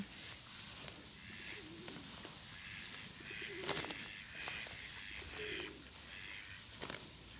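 Pigeons coo softly in a park, the calls faint and somewhat distant over quiet outdoor ambience.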